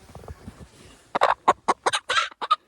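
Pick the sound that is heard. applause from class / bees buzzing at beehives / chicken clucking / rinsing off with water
chicken clucking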